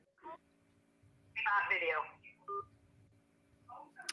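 Telephone keypad dialing tones on a radio-style call-in show, a few distinct short beeps spread over several seconds with a louder burst of tones in the middle, faint and fairly close, with background hum.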